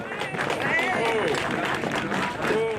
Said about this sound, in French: merci et bravo encore sous vos applaudissements